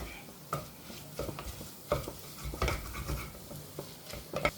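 A spoon stirs spices and green chillies in a hot pan for a pressure-cooker chicken curry, giving irregular close scrapes and clatters over a light sizzle.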